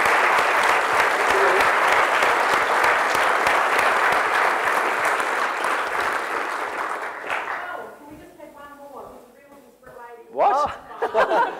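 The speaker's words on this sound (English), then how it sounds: "That was like clapping and things." An audience at a science and politics panel discussion gives sustained, loud applause that fades after about seven seconds, followed by chuckles and scattered laughter as people start talking.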